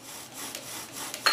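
A wooden bow drill rubs steadily to burn a notch during winter camp instruction, giving a dry rasping friction in repeated strokes, close and moderately loud, with a brief sharper squeak at the end.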